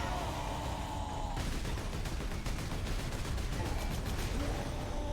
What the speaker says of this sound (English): Spam grenades.